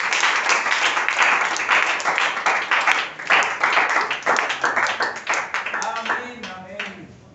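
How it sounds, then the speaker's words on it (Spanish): A church congregation breaks into sustained applause, dense clapping filling the room with voices mixed in, tapering into scattered claps near the end. "Todos démosle un aplauso al Señor."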